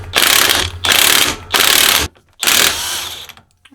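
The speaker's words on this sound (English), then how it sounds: "I'm going to start using that to very gently coerce this on." A ratchet wrench cranking a nut onto threaded parts of a Toyota Tacoma shifter and transmission assembly: four loud bursts of rapid mechanical clicking separated by short pauses, close to the microphone, with no talk.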